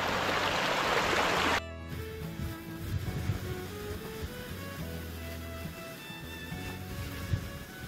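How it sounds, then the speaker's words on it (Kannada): A small waterfall at Kavaledurga Fort near Thirthahalli roars in a loud, dense rush for under two seconds, then cuts abruptly to steady tonal sounds. "ನೋಡಿ ಸಖತ್ತಾಗಿ ನೀರು ಬರ್ತಾ ಇರೋದು ಅಲ್ಲಿಂದ. ಒಳ್ಳೆ ಫಾಲ್ಸು, ಸಣ್ಣ ಫಾಲ್ಸ್ ಅನ್ಬೋದು."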